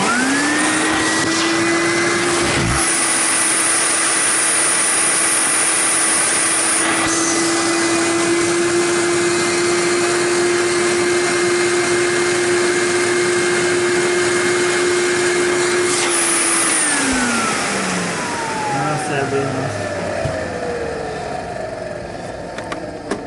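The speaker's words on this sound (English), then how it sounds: "You can hear the motor. This machine is tired." Electrolux Marquise 1521 Super J vacuum cleaner motor, old and worn, droning loudly and steadily at close range, then spinning down with a falling whine near the end, with no talking.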